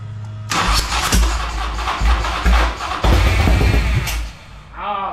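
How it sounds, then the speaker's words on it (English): A custom motorcycle that sat parked for 20 years, choke on, cranks hard on its starter with a loud, strained whir and ragged pulses of the engine nearly catching, pausing briefly before cranking again, then a short coughing tail. "It was starting, but you can hear that starter."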